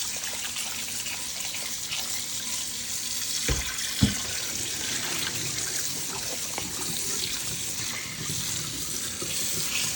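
Tap water runs steadily into a kitchen sink while salt mackerel is rinsed, a constant close hiss and trickle with a couple of brief clunks partway through and no talking.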